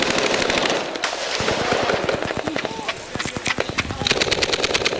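Bursts of rapid gunfire from multiple rifles crackle in fast, overlapping volleys, loud and sustained with short lulls, evoking a Vietnam War street battle from 1968.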